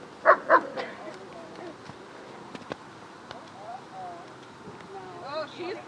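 Dogs bark and yip at an outdoor dog park, two sharp barks up close at the start followed by scattered yelps and whimpers, with people talking between them.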